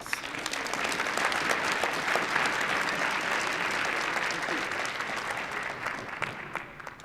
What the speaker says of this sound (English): Let's give Attorney Donnell a round of applause.